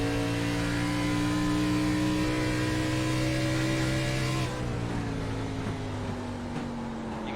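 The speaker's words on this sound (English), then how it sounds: "You can hear right there how hard they're actually hitting on that brake a little bit, letting that car shift down" Race car in iRacing braking hard and downshifting: a steady loud engine drone that drops in pitch as the revs fall, ending quieter and lower.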